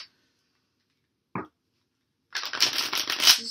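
Tarot cards are shuffled close by: a brief riffle, a pause, then a longer stretch of rapid, crisp flicking.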